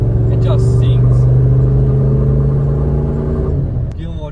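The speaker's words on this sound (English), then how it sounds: "it's got an engine that just" Holden Commodore VS SS V8 idling and revving, a loud close exhaust burble with a steady low drone that fades near the end as a voice begins to speak.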